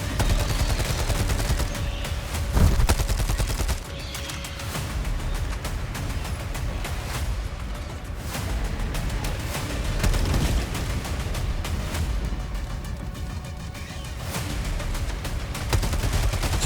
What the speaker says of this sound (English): the Coyote, when you tag things, it lights things on fire, and then it obviously can kill them relatively quickly